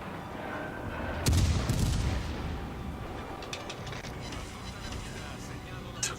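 Enemy ship guns fire at the player's warship in a naval combat video game, a heavy booming burst near the start followed by scattered crackling shots and rumble fading into the background.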